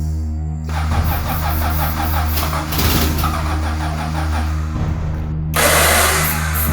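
Car engine on a hopelessly broken vehicle being cranked by the starter, a loud close rhythmic churning that catches into a rough running engine with uneven revving, ending in a louder burst.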